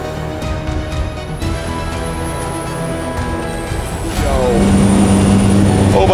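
Small seaplane engine building power for takeoff, a steady droning hum under cabin noise that swells louder after about four seconds as the engine revs up.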